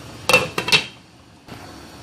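A lid set down on a pot of simmering Pinoy spaghetti sauce gives a few quick metallic clanks close by, then a short rattle before it settles.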